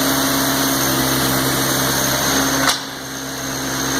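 A Kubota B3200 compact tractor engine idles steadily with a high, even hum while its hydraulics strain to lift the tractor, then the tone drops abruptly near the end as the load releases.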